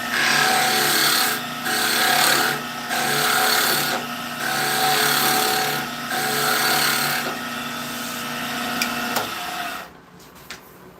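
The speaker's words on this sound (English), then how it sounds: "So I'm going to taper this now and find another diameter." Wood tapered on a lathe for a steering wheel build: a steady, loud rasping scrape from a turning tool against spinning timber, swelling and easing in several long passes before stopping near the end, with no talk.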